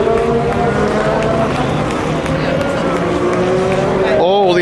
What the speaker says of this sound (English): All the LMP2s with their Gibson engines.